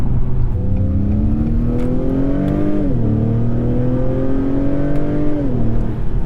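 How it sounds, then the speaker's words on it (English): A 2021 Acura TLX accelerating from inside the cabin, steady engine drone climbing in pitch, then two upshifts drop the revs before it climbs again, loud and continuous with no talking. "Transmission's not incredibly responsive or snappy with its shifts."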